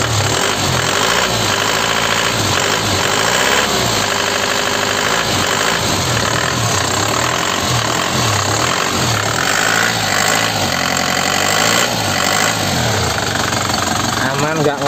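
A black 2015 LS Turbo car with about 90 km on it idles roughly and is revved repeatedly, its engine loud and close with a steady knocking rumble throughout while someone talks over it.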